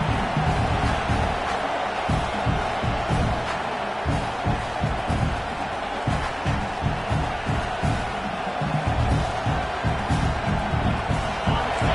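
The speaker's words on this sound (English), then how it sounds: "Listen to the crowd energy here in the early going." A dense stadium crowd roars steadily for the whole stretch, loud and continuous, with scattered shouts rising out of the wash of noise.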